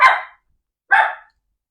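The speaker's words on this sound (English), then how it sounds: "Really that barking." A dog barks twice, loud and close, with a short pause between the two sharp barks and no other sound around them.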